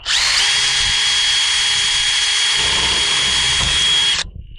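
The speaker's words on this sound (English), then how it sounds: "Hold it in place and drill the other side." A power drill with a 1/4 inch bit bores steadily for about four seconds, a loud, high continuous whine that cuts off abruptly at the end.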